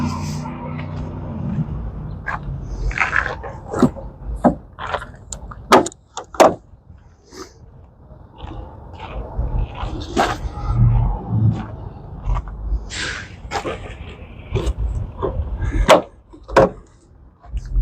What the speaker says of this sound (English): Now I'm gonna open my hood.